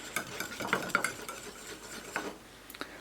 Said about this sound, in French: Avec le fouet, on mélange